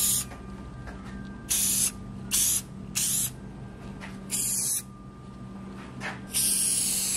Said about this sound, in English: Here's me applying that rubber bottom and applying some finish. I did 2 coats of lacquer.